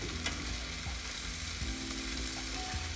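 Eggs and vegetables frying in a pan, a continuous bright sizzle with a few scraping and stirring knocks, close up and steady, no voices.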